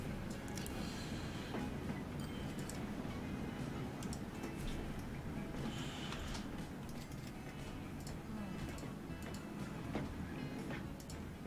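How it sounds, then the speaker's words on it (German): A freight train with a large closed goods wagon rumbles past in the Transport Fever game, a steady low roll with faint clicking wheel beats and no talk over it. "Oh, der Studebäcker und der große geschlossene Güterwagen kommt."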